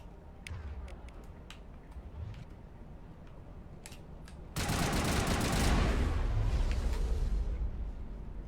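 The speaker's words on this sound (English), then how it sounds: "Somebody else shooting at me?" Gunfire in Mass Effect: scattered distant single shots give way to a loud, dense fusillade of rapid weapon fire that continues for several seconds, with faint voices underneath.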